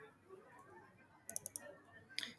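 A computer mouse clicks four times in a quick close run and then once more, sharp and fairly soft over a faint room hum, during spreadsheet work.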